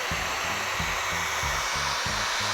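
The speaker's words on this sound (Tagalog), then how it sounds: "Ilagay sa pinakamainit na setting itong dryer natin, ang blower natin." A hair dryer set to its hottest setting blows continuously at close range with a steady loud whoosh and a pulsing low hum.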